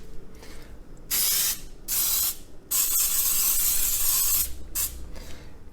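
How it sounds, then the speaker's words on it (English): Baker's Joy cooking spray is sprayed into a cake pan, heard as three loud aerosol hisses, the last one longest, with quiet pauses between and no talk. "go ahead and spray your pan with some cooking spray"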